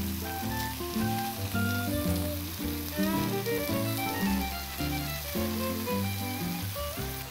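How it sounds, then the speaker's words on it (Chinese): Tofu pan-fried in a small amount of oil for a crisp crust, giving a steady, continuous sizzle that stays close and even throughout. "你就让它这样煎，这样才有办法煎出它的那个外面有点硬壳的感觉"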